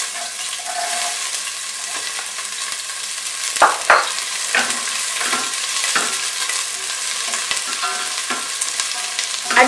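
Chopped onions frying in coconut oil over medium heat, a steady close sizzle with a few spoon stirs and scrapes breaking through partway.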